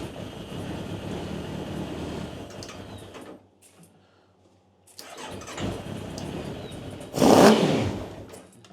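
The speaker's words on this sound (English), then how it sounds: "Okay, so it's a loud engine anyway. I didn't know how loud the exhaust was on this." A tracked machine's engine cranks and runs with a loud exhaust, a rough rumble that cuts to near silence and then restarts, ending in a sharp, very loud roar.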